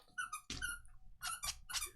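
A dog plays with a squeaky toy indoors, giving a run of sharp, high squeaks in quick bursts, some clustered and some spaced apart, fairly close and moderately loud with no talk over them.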